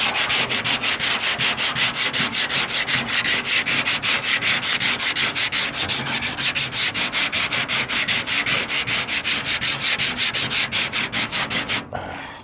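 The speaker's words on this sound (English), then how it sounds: "So once I'm done sanding" Car body panels with bumpy fender metal and body filler are hand sanded before repainting, a close, loud, rhythmic scrubbing of rapid back-and-forth strokes that runs steadily for about twelve seconds before stopping.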